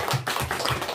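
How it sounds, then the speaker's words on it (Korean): A church congregation claps during a Sunday service, a brief burst of uneven hand claps heard close and moderately loud, with no talk. "박수요."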